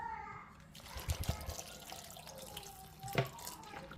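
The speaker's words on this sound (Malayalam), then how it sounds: "ഇതിലേക്ക് ആവശ്യത്തിനായിട്ടുള്ള വെന്ത് വരാനായിട്ടുള്ള വെള്ളം ചേർത്ത് കൊടുക്കാം" Water is poured into potato curry in a pressure cooker, faint splashing and trickling with a couple of brief louder splashes, quiet and close.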